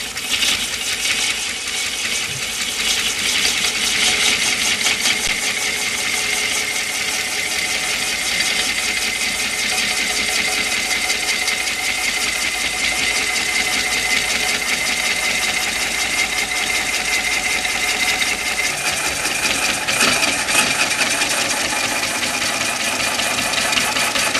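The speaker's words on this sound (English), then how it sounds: "I'm taking a fairly aggressive cut. I'm cutting probably half an inch of material off at a time, which you can do in green wood" A wood lathe takes an aggressive half-inch-deep cut in green wood, producing a loud, continuous rough grinding and rattling chatter with a steady mechanical hum, sustained without pause and no talking.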